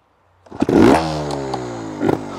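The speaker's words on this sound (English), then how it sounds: "I've got good at starting this vertigo now." A Vertigo trials motorbike, a two-stroke, kicks and fires up after a moment of quiet, then settles into a loud, close idle with a rising, revving note and a couple of clattering bursts.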